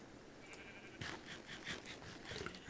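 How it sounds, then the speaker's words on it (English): Sheep in the Minecraft game Pixel Sun UHC bleat in a repeated run of short, faint cries over a low background of game noise. "What is with all these sheep? There are literally 30 sheep here."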